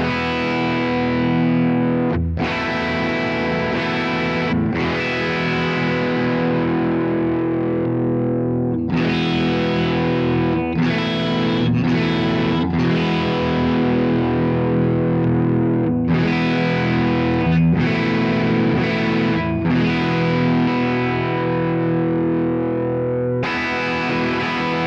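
Vintage Yamaha SG1000 electric guitar, beat up, played loud through heavy distortion with sustained chords and riffs, broken by short pauses and restrikes, heard alone.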